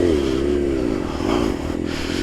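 Motorcycle engine pulling away as the clutch is let out, a steady close revving drone with wavering pitch and some light clatter, no talk.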